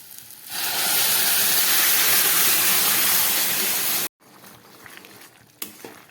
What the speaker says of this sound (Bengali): এবার আমি এর মধ্যে দিয়ে দিচ্ছি একটু উষ্ণ গরম জল